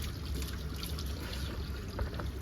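Tap water runs in a quiet, continuous trickle while someone washes face and hands, with no talking over it.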